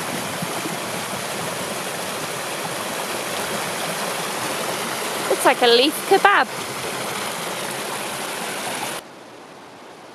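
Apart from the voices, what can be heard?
flooded river water flowing fast past logs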